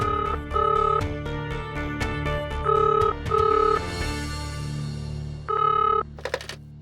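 A telephone rings in repeated short, bright warbling bursts with gaps between them, with clicks and a low background hum. A burst of noise falls in the middle, and one last ring comes before the sound stops abruptly.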